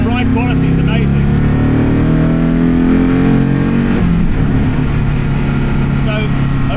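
A 1,360 hp Koenigsegg Agera N hypercar pulls hard through the gears toward 5,000 RPM, a loud, close engine roar with rising harmonic tones that drops sharply at a shift midway, then climbs again.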